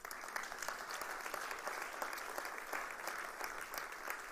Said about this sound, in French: et là vous avez le droit d'applaudir quand même.